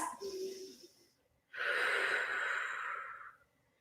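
Deep breathing during a pilates chair stretch: one soft inhale, a pause, then a long, close, airy exhale lasting about two seconds, with no talk.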